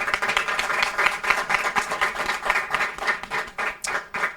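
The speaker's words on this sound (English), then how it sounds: "So guys, actually, let's clap for them." A studio audience at a Gen Z talk show claps steadily to welcome arriving guests, a dense, even patter of many hands that continues throughout.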